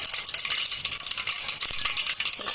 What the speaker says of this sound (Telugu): దాంట్లో కొంచెం కరివేపాకు వేస్తున్నామండి